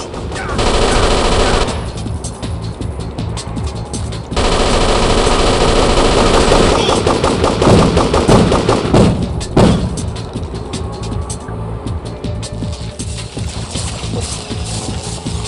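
9mm submachine gun fire in a first-person shooter video game, loud rapid bursts of automatic shots in rattling strings, with pauses and other in-game noises between volleys, close and dominant.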